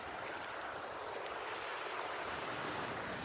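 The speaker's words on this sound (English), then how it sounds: "Nothing better to do, look at the creek." Creek water flowing beside a road near Hayesville, North Carolina, a steady broadband rush heard alone at a moderate distance, with some wind noise mixed in.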